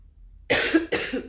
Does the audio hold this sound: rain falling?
no